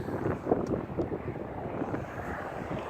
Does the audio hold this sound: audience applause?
no